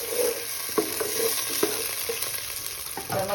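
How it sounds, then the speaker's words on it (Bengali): Fried masala for a katla fish curry sizzles steadily in a pan after water is poured in, with a few soft stirring knocks under the constant hiss. "এর মধ্যে আমি 240 ml জল দিচ্ছি"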